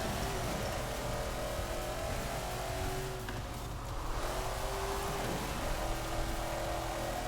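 A 1964 Ford GT40 Mk 1 race car in Forza Horizon 4 holds a loud, steady engine roar at high speed, with pitch rising and falling gently through gear changes and no talk.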